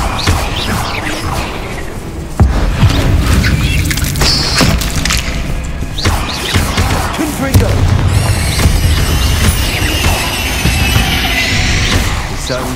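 Blasts from Confringo and Bombarda spells in the video game Hogwarts Legacy, a rapid string of booming impacts and crashes over dense battle noise with bits of voice, loud and continuous throughout.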